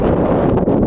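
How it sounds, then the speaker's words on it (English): Wind blows outdoors near gorilla caves, a close, steady rushing roar buffeting the microphone for under a second, with nothing else audible. "Wind is blowing these here now."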